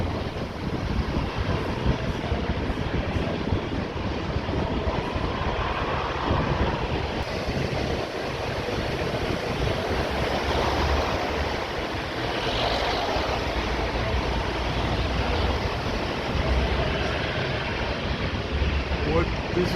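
A Boeing 737 taxis toward the runway at Orly airport, its engines making a continuous loud roar mixed with wind buffeting the microphone, with voices faintly underneath.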